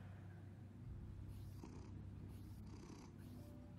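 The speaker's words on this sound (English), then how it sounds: "Well, there's one of her cats." A cat purrs steadily in the Batman: The Telltale Series video game, a soft continuous rumble with faint background ambience and no talking.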